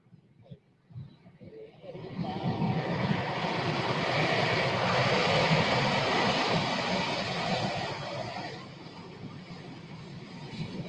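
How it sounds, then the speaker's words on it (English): Blue Angels jet aircraft taking off at a practice, a loud roaring engine rush that builds over a couple of seconds, holds steady and then slowly fades as the jet climbs away. "Watch the airplane closest to us. When he lifts off, he's going to do a roll."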